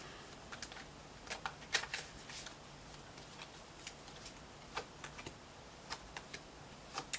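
Tarot cards being shuffled close by, a quiet papery flutter broken by scattered soft clicks and snaps at an uneven pace, with no talking.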